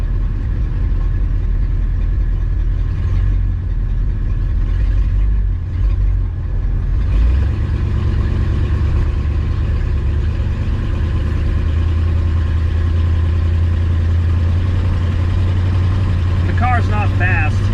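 A 1960 Ford Thunderbird with a Cruise-O-Matic automatic cruises down the road, its engine giving a steady, close, low rumble. A brief change in the engine note early on gives way to a constant drone.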